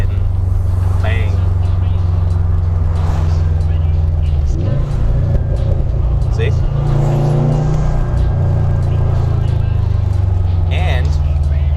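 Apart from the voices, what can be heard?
car exhaust popping and banging on downshift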